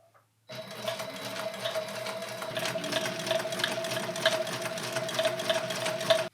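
A Sailrite sewing machine stitches the back and front parts of a cosplay costume together, starting abruptly and running steadily with a fast rhythmic needle clatter and motor whine, close and alone.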